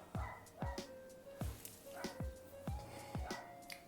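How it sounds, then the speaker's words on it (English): A small dog barks and yips repeatedly in a steady rhythm of sharp, fairly close barks, with a faint whine between them. "this dog never stops barking."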